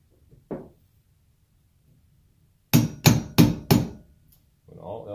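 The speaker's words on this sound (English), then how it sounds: "hit it with a hammer." A single knock, a pause, then four heavy hammer blows strike a metal vacuum pump in a quick, steady series, close and loud, followed by a rustle.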